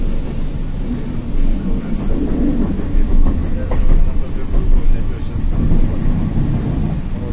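A Pesa Twist (71-414 Fokstrot) tram rolls along rails at night toward the depot with a steady rumbling drone and faint clacking, heard from on board.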